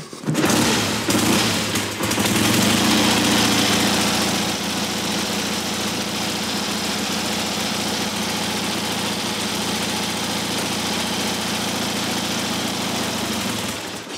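A classic Triumph Tiger motorcycle engine starts on choke with a few rough bursts, then settles into a loud, steady, close-up idle that holds throughout.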